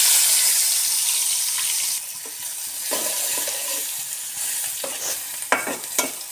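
Onion paste with garlic, cinnamon and bay leaf frying in a pan, a steady bright sizzle with scraping stirs and a few clinks of the spatula, close and alone.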